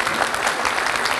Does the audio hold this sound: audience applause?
yes